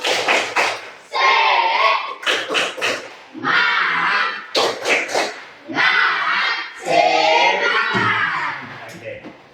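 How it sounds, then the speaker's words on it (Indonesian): Students in a classroom perform a rhythmic group clapping chant, bursts of sharp claps in patterned sequences alternating with loud shouted voices in unison, energetic and close. "Kita ulang sama-sama, tepuk semangat."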